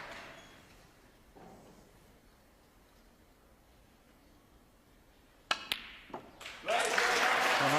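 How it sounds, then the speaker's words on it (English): A snooker crowd breaks into applause and cheers for Ronnie O'Sullivan's break against Matthew Selt, the arena quiet at first, then a few sharp claps and a loud, sustained ovation filling the final seconds. "And he is being cheered on to the rafters."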